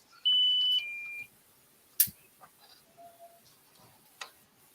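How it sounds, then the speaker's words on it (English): A front door alarm system gives a two-tone descending entry chime near the start, followed by faint clicks and small household noises in a quiet room. "It goes ding dong as you walk in."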